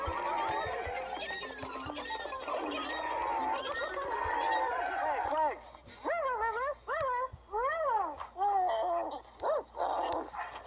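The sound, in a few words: dog woofing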